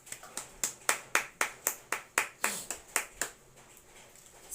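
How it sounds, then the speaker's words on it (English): Students in an online class give a virtual clap: about fourteen crisp, evenly spaced claps in a steady rhythm, close and clear with no talking. "you all deserve a virtual clap"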